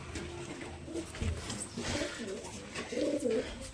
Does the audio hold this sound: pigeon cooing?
yes